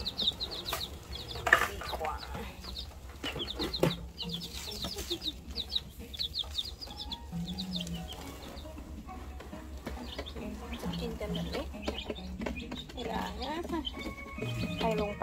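Backyard chickens kept by a novice keeper cluck repeatedly in short, fairly close bursts, with occasional louder calls over a quiet farmyard background.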